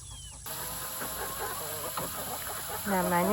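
Chickens in a backyard flock cluck in soft, scattered calls close by, with a steady background hum, and a person speaks briefly near the end.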